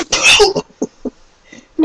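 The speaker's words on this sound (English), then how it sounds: "I got to sneeze." A single loud, close sneeze bursts out at the start, followed by a few brief, quiet vocal sounds.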